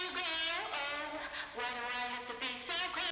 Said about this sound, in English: I've added a bunch of saturation to make it sound super grimy.